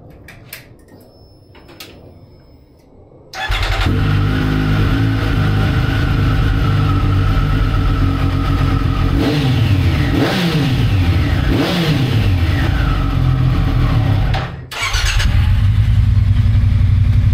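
Two Triumph-style Speed and Street motorcycle engines fire up after a quiet start, idling loudly and revving in repeated rising and falling sweeps, close by, with a brief dip before the second engine runs on.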